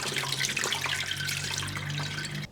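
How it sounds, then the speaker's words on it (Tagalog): String beans are rinsed under a running kitchen tap, a steady close splash of water hitting the sink with brief drips and small surges, no talking throughout. "hugasan muna natin"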